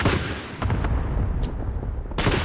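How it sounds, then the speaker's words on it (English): Cluster airstrike in a video game: a dense run of booming blasts and crackling gunfire, loud and continuous across the moment with a bright burst near the end. "Allied cluster strike inbound."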